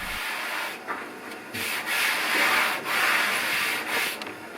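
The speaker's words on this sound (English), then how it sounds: "as I run my hand over the board, you can actually hear the difference between these sanded and unsanded parts" A hand rubs back and forth over a wooden board with sanded and unsanded sections, giving close, dry scuffing strokes in a steady rhythm with no talk.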